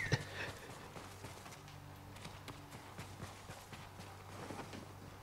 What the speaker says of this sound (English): See, look at this horse here, full of strength and vitality.